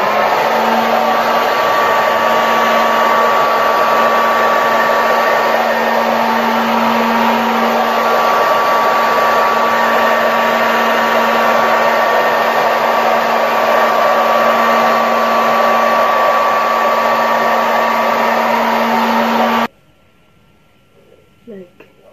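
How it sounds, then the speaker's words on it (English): A hand-held hair dryer blows steadily while drying natural 4C hair, making a loud continuous whirring hum for about twenty seconds before switching off abruptly. Faint handling noises follow. "So I'm just going to continue drying my hair with this one."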